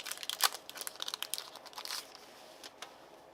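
A Dragon Ball Super Cross Spirits card booster pack wrapper being torn open, with sharp crinkling and crackling bursts close up that grow sparser and quieter toward the end.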